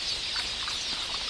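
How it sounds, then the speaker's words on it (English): A flock of quelea birds gives a dense, steady rush of fluttering wings and high twittering, close and continuous for a brief moment. "The predator sizes up its prey, quailia birds, which flock in thousands."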